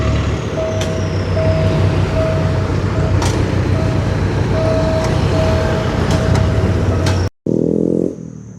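Express train No. 85 at Thung Song Junction station in Nakhon Si Thammarat, Thailand, makes a loud, close, continuous rumble with a faint squealing tone and a few sharp clanks, then cuts off abruptly near the end.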